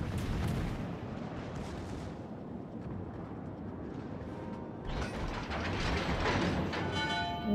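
Secondary battery guns fire from a warship in World of Warships: Legends, a dense, continuous barrage of booming shots and rattling impacts, growing louder and sharper toward the end.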